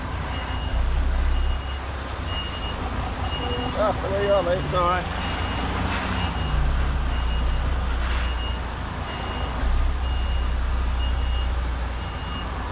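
A reversing truck sounds its steady repeating beeps throughout, evenly spaced tones over a low engine rumble, while someone talks nearby partway through.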